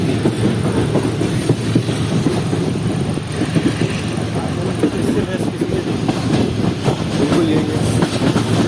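A passenger train hauled by General Electric 14-series locomotives runs on tracks near Karachi in extreme heat, giving a constant close rumble with rapid rhythmic wheel clatter under steady talk.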